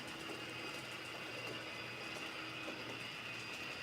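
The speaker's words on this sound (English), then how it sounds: "We've got a couple of trains running." Model trains, a pair of freights and an Amtrak, run on a home model railroad layout, giving a faint, steady mechanical whir and light rhythmic clicking of wheels on track, with no voices.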